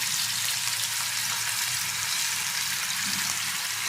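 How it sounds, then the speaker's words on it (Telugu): Fish pieces for a Nellore-style fish curry sizzle in hot oil in a pan: a dense, even crackling hiss that stays steady and close throughout, with no voices. "నూనె అయితే కాలింది, చేప ముక్కలు వేసేస్తాను."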